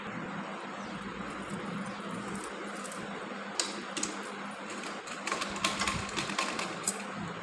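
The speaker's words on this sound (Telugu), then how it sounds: "బ్యాక్ పార్ట్ కుడతాను." A sewing machine stitching the back part of a long frock runs with a steady faint mechanical whir, joined later by light rapid clicking taps, heard alone at low volume.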